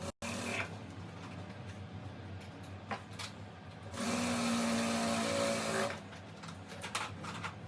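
Sewing machine double-stitching a hook strip on a lined blouse, a faint steady mechanical whir that swells louder for a couple of seconds mid-clip amid quiet background noise.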